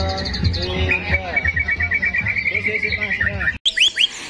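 A white-rumped shama and a lovebird sing together in a songbird setting. Rapid whistled phrases and chirps run close and continuously, ending in a sharper burst of calls after a short break.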